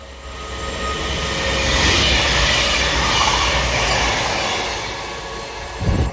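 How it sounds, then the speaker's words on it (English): A Cross Country Voyager diesel multiple unit rolls through Levenshulme station on the Manchester branch of the West Coast Main Line, a loud, broad roar of engines and rail noise that builds and holds steady over several seconds, then drops away near the end. "Now passing through is going to be another cross-country Voyager."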